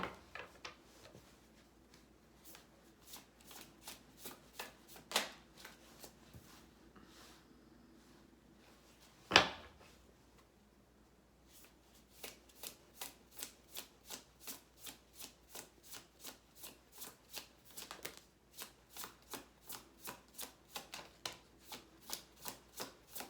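A tarot deck being shuffled by hand, close and soft, with rapid regular riffling clicks in long runs, a sharp knock near the middle, and no talking.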